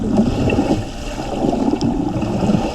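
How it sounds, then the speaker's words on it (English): Dull, irregular knocks and thumps of a boat hull slapping through choppy water on the St. Lawrence River in high wind, mixed with wind and the steady low rumble of a trolling motor. "And the boat clunking through some chop as well,"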